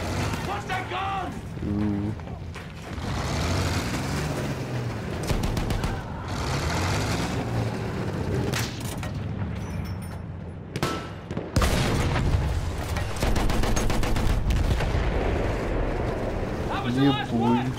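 Battlefield 1 combat with dense rumbling booms and shots, tank and vehicle noise, and field-gun fire, a continuous loud wartime din with excited voices talking over it.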